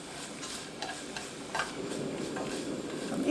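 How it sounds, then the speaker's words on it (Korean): Carrots are stir-fried with salt in a pan, giving a continuous soft sizzle with scattered light scraping and tapping from stirring, close by and steady, growing slightly louder toward the end, with no talking. "당근 볶아줄게요."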